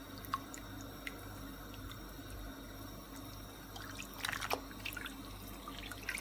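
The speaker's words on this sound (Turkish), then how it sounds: "Bu şekilde suyunu sıkalım. ve tepsimize yayalım." Boiled thin pastry sheets for Turkish su böreği are squeezed out by hand, giving faint dripping and trickling water with a few small splashes near the end, close by and quiet.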